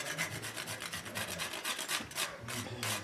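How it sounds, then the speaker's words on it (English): Small lemon zester grating food for a seafood lasagna, heard as rapid rhythmic rasping strokes, close and clear, in repeated bursts with brief pauses and no talk. "I'm just using a regular little small lemon zester to grate"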